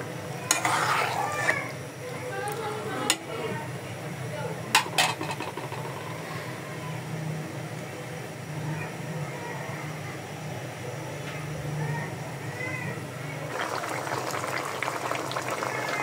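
Katla fish curry bubbles and simmers after water is added: continuous close boiling and light sizzling, with a few sharp utensil knocks early on and stirring sounds near the end.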